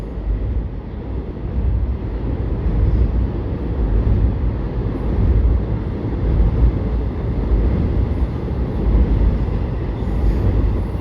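A CSX heavy freight train pulling out of the Bone Valley rolls past with a continuous low rumble and clatter of cars, loud and close, with some wind noise on the microphone.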